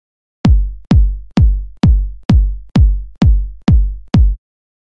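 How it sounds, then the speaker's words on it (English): Nine evenly spaced kick drum hits thump alone at a steady tempo, each a punchy low boom with a short decaying tail and clean silence between. "So here's what the kick sounds like."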